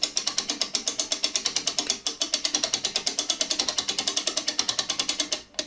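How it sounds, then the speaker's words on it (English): Clock mainspring winder ratchets steadily while a spring from a vintage 31-day Korean wall clock is let down, giving a long run of fast, even, close clicks that pause briefly once and stop at the end. "Now we'll reverse the flow of the winder, holding the spring so it doesn't jump out."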